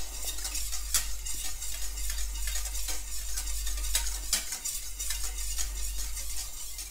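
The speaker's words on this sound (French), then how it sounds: "je mélange bien le tout de façon à obtenir un liquide homogène" Homemade laundry detergent liquid with soda crystals is stirred in a container, giving a continuous close scraping and swishing with sharp clinks of the utensil against the sides, over a low steady hum.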